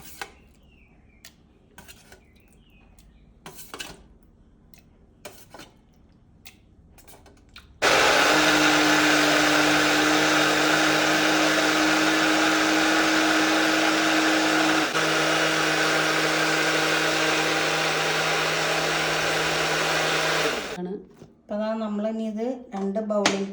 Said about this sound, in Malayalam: ചൂടാറിയതിന് ശേഷം നമുക്ക് മിക്സിയുടെ ജാറിൽ അരച്ചിട്ട് കാണിക്കാം